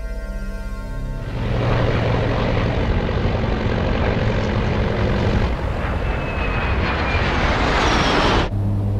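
Colgan Air propeller airliner, Continental Connection Flight 3407, flying en route from Newark to Buffalo: a loud, steady engine and propeller drone that rises after a quieter start and holds without a break, alone with no talk.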